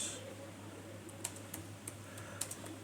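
Quiet typing on a computer keyboard while writing a blog post: a handful of sparse, light key clicks at irregular intervals over a faint steady hum.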